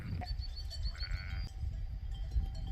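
A sheep bleats a few times at close range over a low rumbling background, with no talking.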